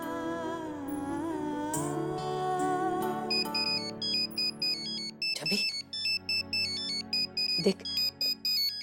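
A bright electronic telephone ringtone melody plays loudly and continuously, its repeating tones ringing on, with a brief spoken word near the start.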